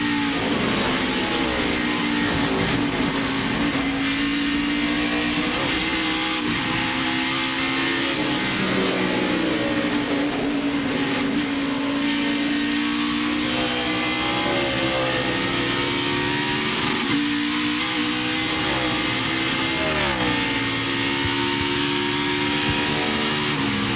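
In-car sound of the number 41 NASCAR race car on a qualifying lap at the 2017 Zippo 200, its engine roaring loud and close throughout, pitch climbing and dropping repeatedly as it shifts, brakes and accelerates.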